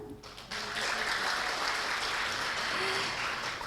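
A large audience in a convention hall at a midwifery program lecture breaks into applause after a short quiet start, a broad, steady roar of many clapping hands that stays strong to the end.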